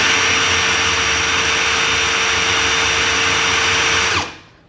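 DeWalt drill running at its high-speed second gear, a loud close steady whine with a constant tone that holds, then spins down and stops near the end.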